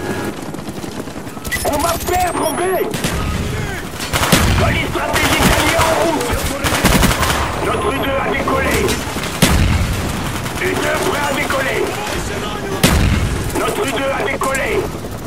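Video game gunfire crackles in dense, rapid bursts and single sharp shots, some booming, continuous and loud throughout while players talk over it.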